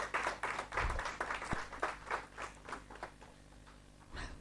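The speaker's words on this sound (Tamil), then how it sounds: "பலமாக கரகோஷம் செய்யும்படி கேட்டுக்கொள்கிறேன்" An audience claps after a dance performance at a Varahi festival event in Mylapore, a moderate round of applause with distinct hand claps that thins out midway and swells briefly again at the end.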